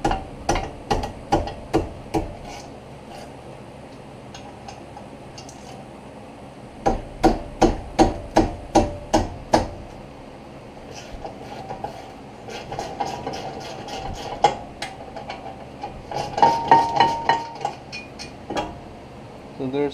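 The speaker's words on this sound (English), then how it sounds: "We're going to the 16mm socket, and there are two bolts in the back." Brake caliper bolts are removed with a 16mm socket on a BMW X3, heard as several bursts of rapid, rattling mechanical impacts separated by pauses, close and loud, with some talk in between.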